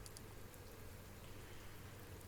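Steady rain falling at night in the Viking-era game Expeditions: Viking, a soft continuous patter of drops with a few brighter splashes near the start, faint and alone without talk.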